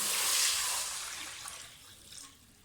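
About 2.5 litres of water poured into a pot of browned chicken for soup, a splashing pour that swells and then tapers off, with no talking.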